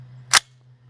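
A single suppressed shot from a 300 Blackout SIG MCX Rattler LT with a SureFire suppressor, firing a Hornady Sub X subsonic round: one short, sharp crack in a quiet setting over a faint steady hum.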